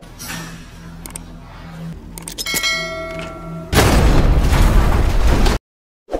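A gunshot in a monster action film starring Don Lee, heard as a loud, roaring blast that follows faint ringing tones and lasts nearly two seconds before cutting to silence, with a small thud after.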